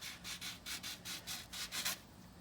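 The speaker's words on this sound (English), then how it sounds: "really just sanding the rust off" Rhythmic rasping strokes of sandpaper sanding rust off a metal car lug bolt, about eight quick back-and-forth passes, close and moderately loud.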